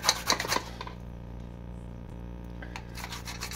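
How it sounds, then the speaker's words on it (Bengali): Carrots being grated by hand for carrot paratha, a quick run of scratchy rasping strokes at close range, then quieter scraping with a faint background hum. "এভাবে আমি সব গাজরগুলো কুড়ে নেব"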